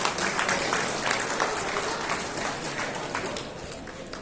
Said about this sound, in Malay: Sila berikan tepukan yang gemuruh kepada beliau.